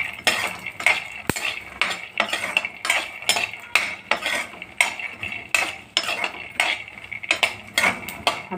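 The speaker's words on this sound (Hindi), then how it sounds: "मैं इसी में डाल दूंगी और मैं इसको भी हल्का सा भून लूँगी इसी के साथ" Garlic cloves being roasted and stirred in a pan for peanut chutney, with a steady run of close metallic scrapes and taps from a spoon against the pan, repeating in a quick, uneven rhythm throughout.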